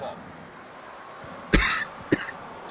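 A person coughs twice, a short burst and then a second single cough, over steady low background noise during a football video game.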